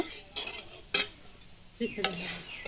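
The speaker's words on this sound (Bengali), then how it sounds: "চিনিটাকে ভালো করে নাড়িয়ে নেব" Sugar being stirred in hot oil in a pan, a brief run of metal spoon scrapes and clinks over a faint sizzle, with no speech.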